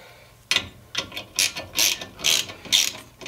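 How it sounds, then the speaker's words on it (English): Hand ratchet tightening a new screw with a wavy washer while installing rear brakes on a 1965 VW Bus, a series of bursts of rapid metallic clicking, close and fairly loud, alone with no voices. "So I'm just gonna tighten that until that wavy washer is about flat."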